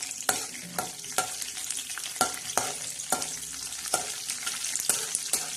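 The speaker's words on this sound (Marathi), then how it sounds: "आता हा लसूण आणि जिरे हा छान असा तडकायला देणार आहोत" Cumin seeds and garlic tempering in hot oil in a kadhai, a steady close sizzle broken by sharp spoon scrapes and stirring clatters at regular intervals.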